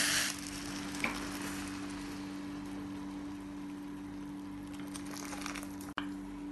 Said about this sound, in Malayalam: ഇനി ഈ അരിയിലേക്ക് ഈ തിളച്ചുകൊണ്ടിരിക്കുന്ന വെള്ളം ഒഴിക്കാം.